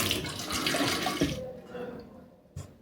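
Icy cold tap water at an Everest Base Camp trek lodge runs as a steady hiss that fades out halfway, followed by a short clatter.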